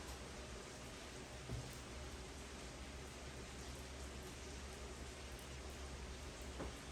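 Steady, even hiss of rain falling, with no voices, only a faint drip or tap now and then.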